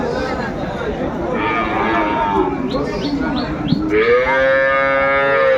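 Cattle moo repeatedly at the traditional Aftabganj livestock market in Dinajpur, with dairy cows and calves being traded; long drawn-out lows rise over a busy crowd murmur, with birds chirping faintly in the background.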